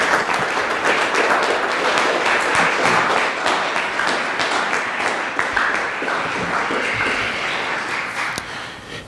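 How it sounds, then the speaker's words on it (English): An audience applauds at a website rollout event, a dense wash of clapping hands that holds steady for several seconds and then slowly thins out toward the end. "Give him a round of applause."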